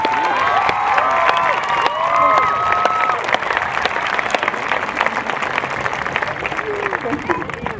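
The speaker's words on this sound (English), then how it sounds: "Just give them a round of applause." Audience at a high school graduation ceremony gives sustained applause, a dense wash of clapping with scattered cheers and shouts, loud and steady throughout with voices mixed in.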